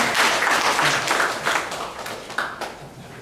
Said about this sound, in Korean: 네, 박수 쳐주세요.